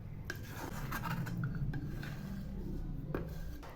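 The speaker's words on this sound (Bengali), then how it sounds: "এখন আমি এই ঘিগুলো নেড়ে দিচ্ছি।" A spoon stirs and scrapes carrot halwa cooked with ghee in a pot, giving a steady, soft rasping sound that runs unbroken through the whole stretch, close and fairly quiet.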